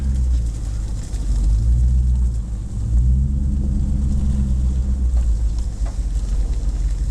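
A vehicle drives steadily while its new ring and pinion gears break in, with 4.56 gears fitted; a constant low engine and drivetrain rumble holds at a fairly even level throughout, with no talk.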